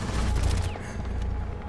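Gunfire in Rainbow Six Siege, a dense burst of shots rumbling through the first half second, then softer scattered reports and low game noise with no talk over it.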